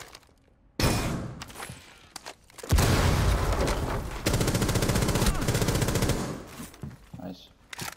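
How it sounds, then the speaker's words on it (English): Gunfire in Rainbow Six Siege shooting through a wall into a karaoke room: a sharp shot, then loud sustained automatic bursts lasting several seconds, with brief bangs and a voice mixed in around them. "I'm gonna mark him, shoot him through the wall"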